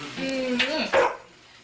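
A dog gives one short, close bark-like yelp indoors in a kitchen while dolmades are being made, followed by quiet room tone.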